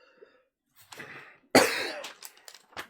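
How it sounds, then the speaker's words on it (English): A person coughs loudly and close, one harsh burst with a rough tail, preceded by quieter throat and breathing sounds and followed by a few short, softer coughs. "You're coughing a lot"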